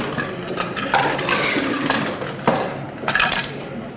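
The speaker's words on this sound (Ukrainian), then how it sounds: "і ще лід в шейкер." Ice cubes drop into a cocktail shaker for a mojito, making a few short, close clattering knocks and clinks over about four seconds.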